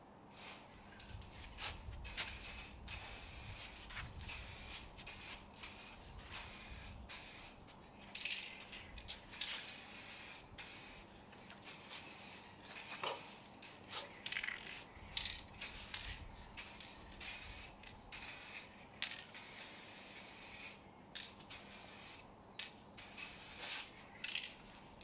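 Aerosol paint goes on in repeated short hissing bursts as a dry coat is sprayed onto bare metal during a boat restoration, with quiet gaps between passes and faint rattling.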